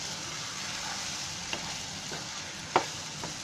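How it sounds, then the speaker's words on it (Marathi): Masala sizzling in oil for an Olya Kaju bhaji (fresh cashew curry) as it is stirred, a soft continuous hiss broken by a few light scrapes and one sharper clack near the end; no voices. "मी जरा ते हलवून बघते, ते चांगलं कसं चरचरायला पाहिजे"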